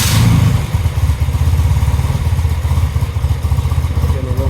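A 1976 BMW R90/6 airhead motorcycle with the choke at half cranks and fires into a loud, close, rough rhythmic idle that pulses steadily for several seconds with no talk.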